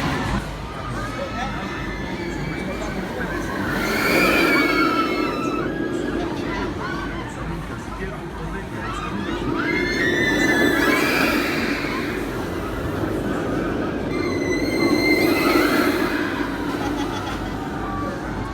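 Riders on the Tigris roller coaster at Busch Gardens Tampa Bay let out three rising waves of screams over a steady roaring rumble, with crowd noise and voices in between.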